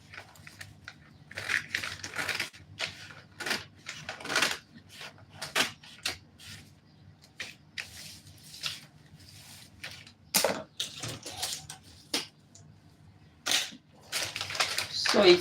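Scissors snip through a paper dress pattern in a steady run of close, quiet crisp cuts with short pauses between them.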